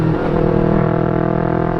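A Yamaha R3 motorcycle fitted with an Akrapovic muffler runs loud and close, its engine holding a steady, rich drone throughout with no voices.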